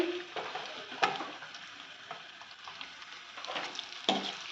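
Sliced onions frying in a pan for a vegetable chapati roll, a steady close sizzle with occasional stirring clinks and scrapes, no voices.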